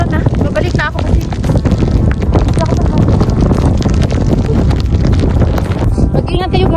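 Strong winter wind storm buffeting the microphone with loud, continuous roaring gusts, while a person talks over it throughout.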